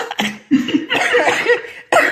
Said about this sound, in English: Excuse me, I'm getting over a little cough.